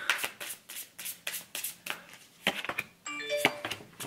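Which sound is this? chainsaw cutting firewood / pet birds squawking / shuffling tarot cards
shuffling tarot cards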